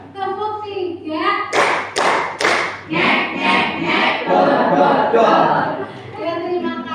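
A group in an Indonesian teacher-training session performs a 'clap three' hand-clapping pattern: three sharp, evenly spaced claps, then a burst of quick rhythmic clapping that fills the rest of the moment.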